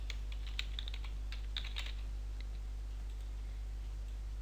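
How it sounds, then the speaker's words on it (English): Light keyboard typing at a computer while entering text into 3D design software, a few soft scattered clicks and short bursts over a steady low electrical hum, fairly faint and close, with no talking. "For this tutorial, I'm just going to type in my name."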